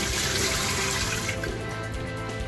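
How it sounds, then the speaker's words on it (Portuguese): Water pours into a hose and rushes straight out the other end, a loud continuous splashing flow that holds steady throughout. "Vamos colocar água para vocês verem que tá saindo ali."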